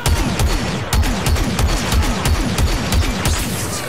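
Rapid blaster fire in Star Wars Battlefront II, a steady rhythmic burst of repeated shots, loud and close for several seconds with no pauses.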